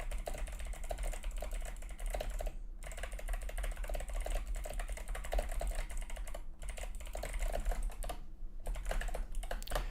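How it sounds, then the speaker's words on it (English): Steady typing on a computer keyboard, a continuous stream of rapid key clicks at moderate, close volume with a few brief pauses and no talking. "Sorry, guys, was busy typing."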